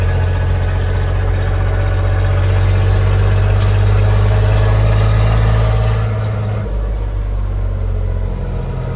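Willys Jeep CJ5 with a swapped 4.3L Chevy V6 pulling in second gear, a loud, steady low engine drone heard from inside, easing slightly in tone near the end.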